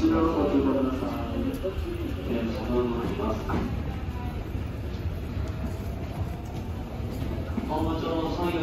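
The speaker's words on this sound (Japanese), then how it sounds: "今電車が参ります。" Tokyo Metro Tozai Line train pulling into Minami-Sunamachi station during the morning rush, a steady loud rumble and rolling wheel noise filling the platform, with station announcements and crowd sounds faintly mixed in.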